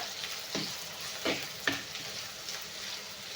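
Onions sautéing in a pan sizzle and crackle steadily, with a few sharp stirring scrapes standing out above the quiet, close frying hiss.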